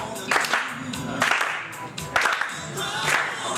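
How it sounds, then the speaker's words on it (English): A slow clap builds in a live show audience, broad clapping swells returning roughly once a second over a steady crowd murmur, fairly close and moderately loud. "Let's get a slow clap going"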